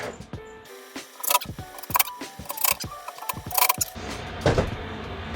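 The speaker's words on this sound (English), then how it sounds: "we're going to attach all of our cam screws" Cam screws being fitted into an IKEA Sektion kitchen corner cabinet, with clicking, tapping and metallic clinks of hardware close by, followed by a longer rougher scraping or rattling near the end.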